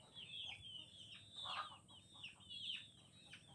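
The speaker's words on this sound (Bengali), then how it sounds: "মোট 25 পিস দেশি মুরগি আছে" Desi chickens on a small farm with about 25 birds give soft, quiet clucks and short rising calls in an uneven run of overlapping notes above a low background hum, with no voices.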